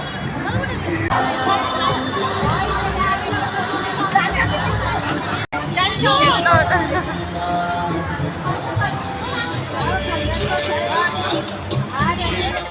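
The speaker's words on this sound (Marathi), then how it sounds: "एवढी भयंकर गर्दी आहे आणि आम्ही एवढ्या गर्दीत आलेलो आहे" Dense festival crowd at a Ganpati pandal, a constant loud babble of many voices with scattered shouts and children's cries filling the whole stretch, with one brief dropout midway.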